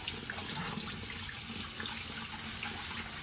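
A kitchen faucet runs hot water into a sink, a steady close splashing hiss with small shifts in the flow, going on alone without talk.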